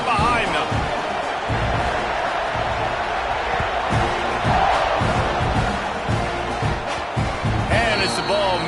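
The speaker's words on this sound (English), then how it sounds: "this crowd now ready to get behind them" A football stadium crowd roars steadily just before kickoff, a dense, loud wall of cheering and shouting that holds throughout, with an announcer talking over it.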